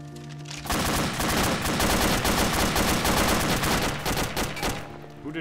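Sustained automatic gunfire in the survival game DayZ, played on a roleplay server: loud, rapid, densely packed shots rattling almost continuously for about four and a half seconds after a brief quiet start, with no voices over them.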